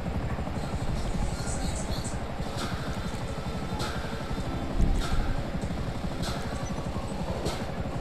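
A video game helicopter's rotor thrums steadily close by in Grand Theft Auto V, with a dense mechanical drone and a brief louder thump partway through.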